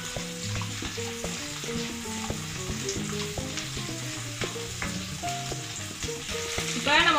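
Four small chopped onions sautéing in a pan for a mushroom matar gravy, a steady close sizzle with frequent clinks and scrapes of a spoon stirring, no talking.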